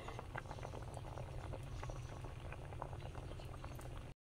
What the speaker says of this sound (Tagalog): hayaan lang muna natin kumulo ng kumulo yan guys